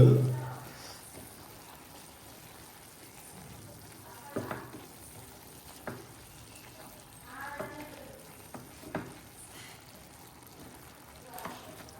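Black tamarind and tomatoes cook in a pan with a soft, low sizzle and occasional faint bubbling pops. The sound stays quiet, with a brief louder burst at the start, while a person talks at times.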